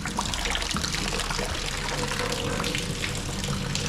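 Fluid drains steadily from the engine of a TVR Cerbera being removed, a continuous close trickle and splash running without a break.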